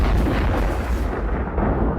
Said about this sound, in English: I get my own firework